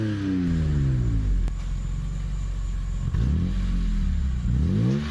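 A BMW E46 M3 with S54 engine and aftermarket exhaust revs and shifts through rising and falling pitches while driving, loud and close with a raspy exhaust note.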